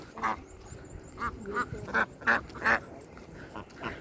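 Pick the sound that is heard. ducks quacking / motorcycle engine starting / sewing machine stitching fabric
ducks quacking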